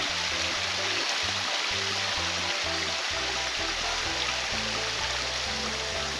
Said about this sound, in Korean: 비소리와 계곡의 물소리